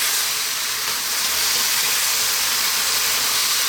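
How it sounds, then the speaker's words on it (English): Stir-fried vegetables hiss loudly and steadily as water and soy sauce steam in a hot pan, a dense continuous sizzle with no talk. "the water's going to help steam the vegetables just a little bit"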